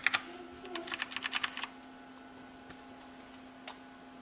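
Quick bursts of keystrokes on a Leopold mechanical keyboard fitted with Cherry MX Red switches, a fast cluster of light, close clicks for about two seconds, then quiet with one stray tap.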